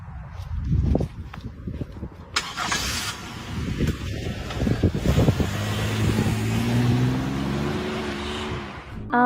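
A car engine cranks and catches, then idles and pulls away with a rising hum, preceded by scuffing steps and a door-like thump; fairly close and loud, with no talk.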